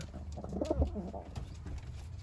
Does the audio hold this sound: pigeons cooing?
yes